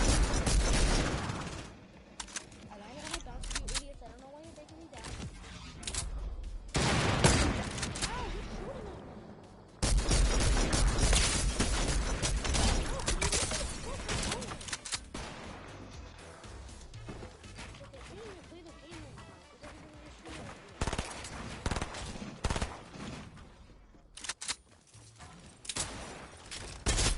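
Gunfire in a Fortnite match comes in repeated loud bursts and single cracks scattered across the stretch, mixed with impacts, while a player talks throughout.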